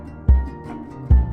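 In an indie folk production, the hammers of a piano give two deep, dull thumps about 0.8 seconds apart that sound like an acoustic kick drum, over faint sustained tones.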